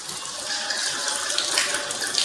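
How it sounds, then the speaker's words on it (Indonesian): Tap water runs in a steady, close hiss while arms are washed for ablution, with no voices over it. "Pastikan air mengalir sampai siku-siku."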